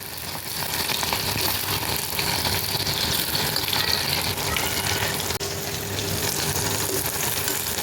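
Sliced onions frying in hot corn oil in a kadai, a steady dense sizzle filling the whole stretch at an even loudness, with no talk over it.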